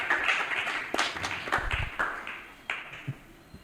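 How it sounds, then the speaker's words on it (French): Brief, thin clapping from a modest audience at a conference session, a handful of hands close by, uneven and fading within a few seconds. "Est-ce que nous pouvons applaudir pour l'encourager?"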